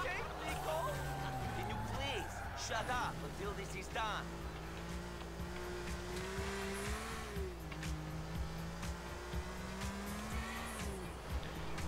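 Car engine in GTA IV revving up and accelerating along a highway straight, a steady droning tone rising and falling continuously under loud game music and noise, with someone talking over it throughout.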